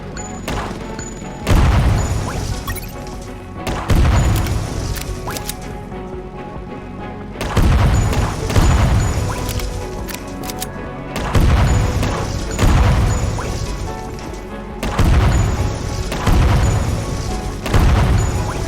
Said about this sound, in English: The actual shooting feels actually pretty good in this game.